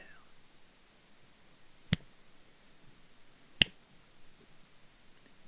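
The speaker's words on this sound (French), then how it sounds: "Claquement de doigts dans une salle de bain. Écho ou résonnement ou réverbération." Two sharp finger snaps ring out in a quiet tiled bathroom with echo, spaced well apart, each crisp and close with nothing else around them.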